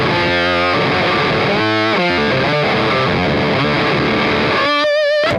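An electric guitar plays a rhythm riff through a Beetronics Zzombee fuzz pedal, giving thick, distorted chords with short choppy stops and a sustained bend at the end.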